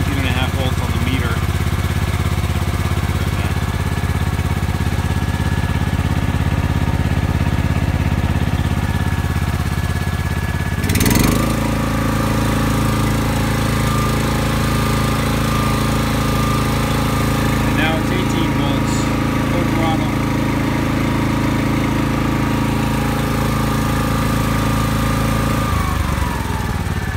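An Exmark lawn mower engine with a suspected voltage regulator fault idles, then jumps sharply to full throttle and holds a steady, louder drone before dropping back near the end, with talk over it.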